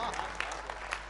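An audience at a Hindi comedy poetry gathering claps steadily for about a second, dense continuous applause heard up close.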